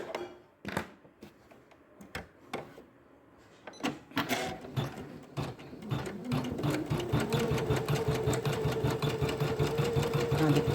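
An Usha 550 sewing machine stitches a design, starting with a few separate needle bursts and then running into a steady, rapid mechanical whir that grows louder toward the end, with a brief spoken word near the start.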